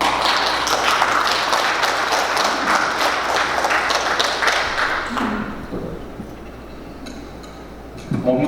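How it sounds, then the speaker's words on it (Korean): An audience at an indoor forum study meeting claps to welcome a speaker, with dense, steady applause for about five seconds that then thins and fades away. "장태평 위원장님은 큰 박수로 맞이해 주시기 바랍니다."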